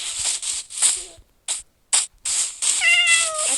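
A cat meows in the Minecraft video game: a short run of clear, rising-and-falling meows near the end, after bursts of game noise broken by brief silent gaps, with no talk.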